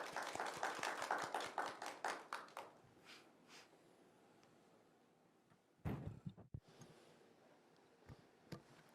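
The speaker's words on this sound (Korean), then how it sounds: "힘찬 박수로서 맞이해 주시기 바랍니다." A small audience at a forum gives scattered clapping to welcome a presenter, a brief burst of claps that quickly thins out, followed by a few taps and thumps.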